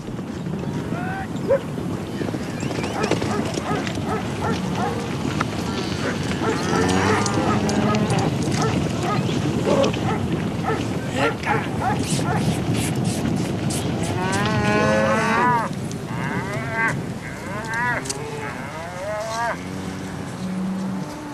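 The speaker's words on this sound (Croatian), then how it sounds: "Son vacas ariscas, no son vacas muy mansas." A herd of skittish cattle in Patagonia moos repeatedly, several overlapping calls near and far over a constant background rumble.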